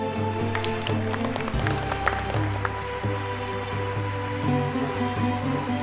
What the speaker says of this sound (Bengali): জোরে একটা হাততালি প্লিজ